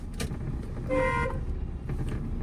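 A single short car horn honk rises over steady engine and road noise, fairly close, during a beginner driving lesson.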